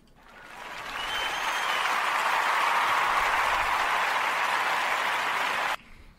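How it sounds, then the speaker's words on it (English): Audience applause swells quickly to a sustained, even wash of many hands clapping, holding steady for several seconds before stopping abruptly. "It was really a golf clap."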